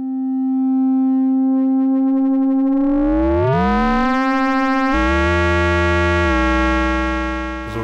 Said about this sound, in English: when the sawtooth is high, it's speeding up the sine wave output